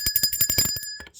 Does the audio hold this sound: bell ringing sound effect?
yes